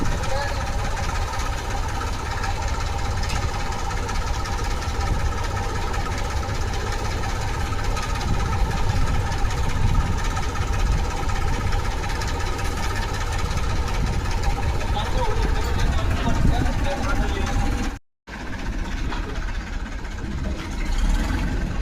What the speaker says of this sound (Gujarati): ટ્રેક્ટર વળી ગયું ગોડાઉનમાં